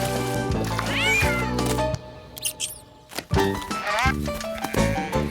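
An animated cat meows in a trailer for the French film Tom le chat, with several rising, expressive cartoon meows close and loud over music and effects, broken by a brief quiet pause.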